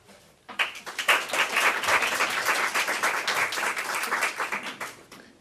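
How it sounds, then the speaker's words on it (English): At the Winton Woods High School 2017 summer graduation ceremony, the crowd breaks into sudden, full applause after a brief quiet moment. The clapping stays sustained and lively for several seconds, then eases slightly near the end. "Could you all stand so we can give you a round of applause?"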